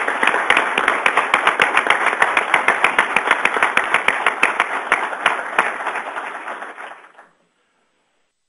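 Applause from a meeting audience greets a colleague elected a fellow of the AMS. Distinct claps repeat steadily for about seven seconds, then stop abruptly into silence.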